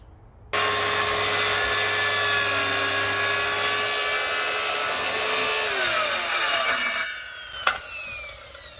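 A power saw bites into a piece of wood being held down for a depth cut for a backyard chicken run. It starts abruptly with a loud, sustained whining drone that winds down near the end, followed by a brief knock.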